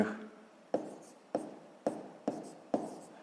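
A pen or pencil jots numbers on paper for a sixth-grade math exercise in five quick, evenly spaced scratching strokes, close and quiet, with no talk.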